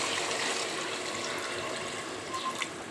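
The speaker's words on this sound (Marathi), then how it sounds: "मी पाणी इकडे गरम करायला ठेवलं होतं ते याच्यात टाकणार आहे" About a litre of hot water poured into a pot of whole masoor lentils makes a steady, close, gushing splash that runs continuously and tapers slightly toward the end.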